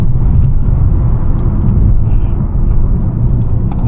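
A 2021 Mercedes-Benz A250 with 226 hp and a 7-speed AMG Speedshift gearbox drives a twisty road, a loud, steady low rumble of engine and tyre noise heard from inside the cabin.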